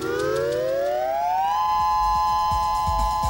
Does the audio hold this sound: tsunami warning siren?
yes